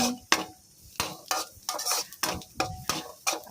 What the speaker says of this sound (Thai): คั่วใส่น้ำมันน้อยๆ นะคะอย่าใส่เยอะนะคะ ค่อยๆคั่วไปเรื่อยๆ